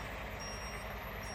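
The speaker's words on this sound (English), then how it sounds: "reversing an 18-ton truck down a very narrow driveway" Reversing alarm of an 18-ton truck delivering limestone down a narrow farm driveway, a steady repeating high beep heard faintly at a distance over low engine rumble.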